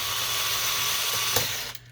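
A tool backs screws out of the belt drive motor on the carriage unit of a Canon Pixma MX922 printer, a loud, close, steady ratcheting whir lasting about two seconds that ends in a couple of sharp clicks.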